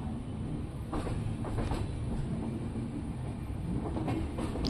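A Mumbai local train passes close by near CSMT, giving a loud, continuous rumble with faint rhythmic clatter of wheels and carriages, heard from a moving long-distance train.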